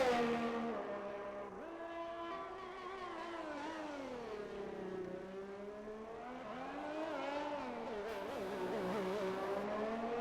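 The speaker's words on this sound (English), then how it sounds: "the first hot lap of the evening will be in a Ferrari" Ferrari race car in a racing video game on a hot lap, engine droning steadily and shifting pitch through gear changes and corners, loud and continuous with no talk.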